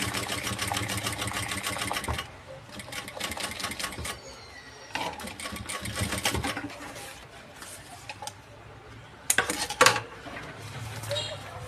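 A sewing machine stitches a fabric side seam along the edge to join the lining to the main piece, running in fast, close bursts with brief stops between runs and a few light clinks.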